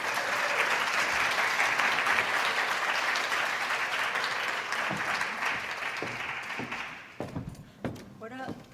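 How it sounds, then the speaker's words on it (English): A conference audience applauds loudly and continuously after a presentation, the clapping thinning out toward the end with a few knocks. "Big round of applause for them."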